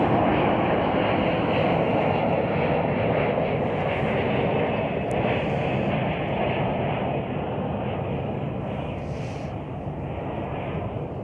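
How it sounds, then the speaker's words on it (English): Jet airliner arriving at Chicago O'Hare on a flight from Orlando, a steady loud broadband engine roar that holds throughout and fades only slightly toward the end. "There's our flight that just got here from Orlando"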